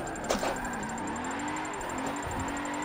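BMW car engine in the Forza 7 racing game during a drift, a steady mid-level drone with pitch sliding up and down, plus a brief clatter near the start.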